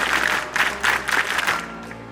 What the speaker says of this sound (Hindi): आप स्काउट ताली बजाएंगे